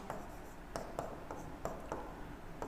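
A pen writes out math working on paper during a class 10 mensuration lesson, making close, scratchy strokes in a quick, uneven rhythm with brief pauses.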